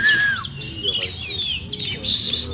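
An oriental magpie-robin in breeding condition sings close by, with bright whistled phrases and quick chattering notes over a faint background murmur.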